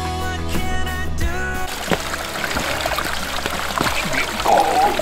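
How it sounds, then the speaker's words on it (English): Water pours and splashes steadily over a low background, with a music-like tonal bed at the start fading into continuous running water. "The water is flowing nice."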